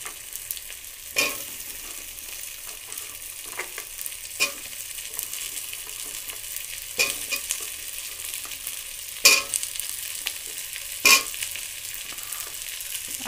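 Potatoes sizzle steadily in hot oil with browned onions in a pan, while a spatula scrapes and stirs in occasional sharp strokes.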